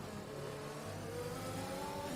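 An F1 car engine from the F1 2021 video game comes off the throttle, a steady mid-pitched engine drone that settles slightly lower, faint and heard on its own.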